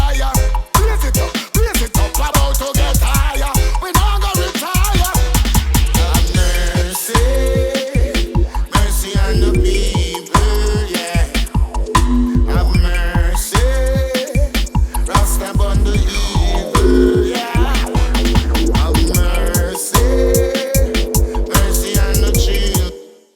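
Dense electronic bass music with a heavy growl bass channel, its tone shifting as an EQ band is swept around like on a mixing desk, loud and continuous with steady pounding low-end hits.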